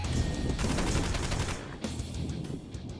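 Rapid gunfire in the video game Wanted: Dead rattles in a dense, fast burst of repeated shots, loud and close, then tapers into scattered reports.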